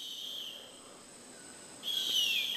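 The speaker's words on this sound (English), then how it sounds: "This is more footage of the adult harpy eagle crying to the juvenile." Adult harpy eagle calling to a juvenile in the Raleighvallen rainforest of Suriname: a thin, high, drawn-out cry that swells louder in the final second over a steady bed of insect buzz.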